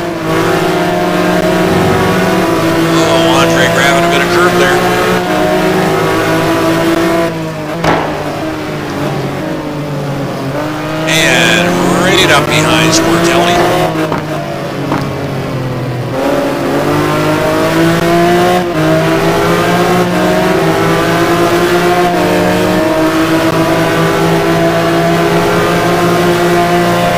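A McLaren and a Ferrari 550 GT1 race car race at the Nurburgring, engines roaring loud and close as they rev up and down through gear changes, with brief lulls and renewed acceleration throughout.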